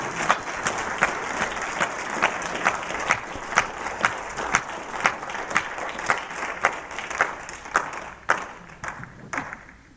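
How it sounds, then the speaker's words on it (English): Church congregation applauding veterans with hand claps: a steady round of clapping from many people, moderately close, filling the space evenly and thinning slightly toward the end, with no voices over it. "I want to recognize all you veterans with a big hand clap from the church"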